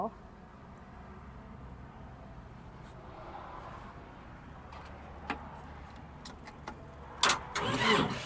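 A Yanmar tractor engine starts: a steady low idle-like rumble with sparse clicks and knocks gives way to a louder broadband burst of cranking and firing near the end, with a voice talking underneath.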